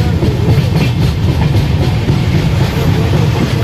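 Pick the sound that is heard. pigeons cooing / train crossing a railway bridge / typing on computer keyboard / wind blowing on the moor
train crossing a railway bridge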